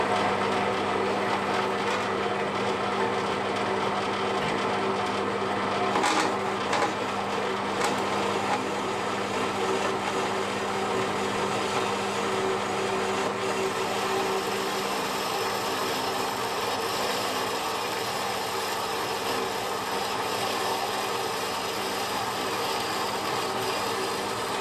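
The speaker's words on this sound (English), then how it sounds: "So now I need to join the holes up with the bandsaw." A bandsaw cuts through metal between drilled holes, a steady, unbroken mechanical drone and whine that holds at an even level for the whole stretch, with no talking.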